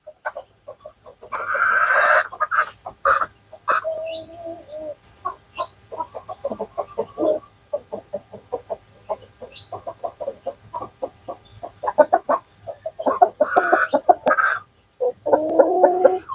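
White laying hens cluck close by in a long run of quick, choppy calls with occasional louder squawks, and a low hum sits in the background.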